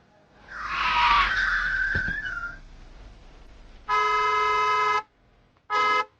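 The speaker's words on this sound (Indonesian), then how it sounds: "Di pusat kota tidak boleh membunyikan klakson." A car horn sounds in a city centre, two flat sustained honks, one long and one short, following an earlier whistling, squealing tone.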